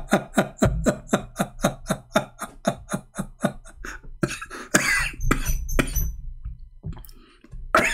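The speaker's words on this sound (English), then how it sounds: "I'm coughing" A rapid run of harsh, repeated coughs, a dozen or more in quick rhythm, followed by scattered rougher coughs and throat noises, close and loud.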